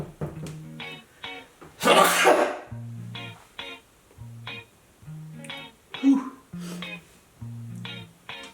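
One loud, sharp sneeze bursts out near the start, close up, surrounded by quieter talking and tonal background sounds.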